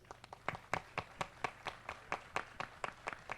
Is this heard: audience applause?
yes